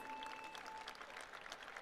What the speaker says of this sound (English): A round of applause for our student leaders.